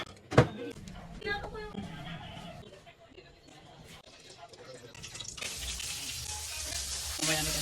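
Food seasoned with pepper and salt sizzles and fries as it is stirred in a pan, with scraping utensil sounds and clatter, and the sizzle grows louder and brighter toward the end. People talk nearby.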